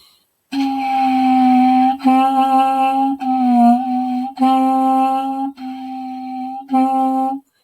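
Clarinet plays a short series of sustained notes with two finger holes left partly uncovered, giving a buzzy, airy, slightly unstable tone. About five or six notes are held firmly and close up, with brief breaks between them.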